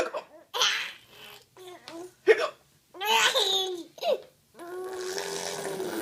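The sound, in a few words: hiccups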